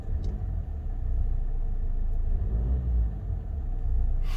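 Diesel engine revving as the accelerator is pressed lightly, a loud steady low rumble that rises slightly in the middle and settles again, heard close up with no talk.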